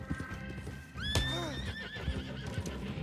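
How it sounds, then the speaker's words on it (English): A horse in the Red Dead Redemption video game lets out a loud rising whinny that wavers and falls, alongside clip-clop hoofbeats, with no talk over it. "Get on the horse."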